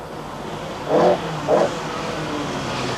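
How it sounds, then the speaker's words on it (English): An Opel Manta rally car on a 1985 Hellendoorn Rally stage is heard from a distance, its engine rising in two brief rev bursts over a faint steady background. "Wait for the Opel Manta number 1 of Jan van der Marel. He comes through"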